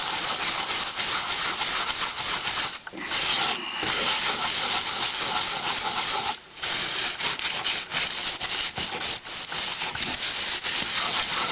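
Salt is scrubbed against cast iron cookware as a continuous close, loud gritty rubbing with a steady back-and-forth rasp and only brief pauses.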